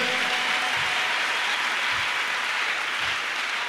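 A church congregation applauds together in a dense, continuous wash of clapping that holds steady and loud throughout, with no voices standing out.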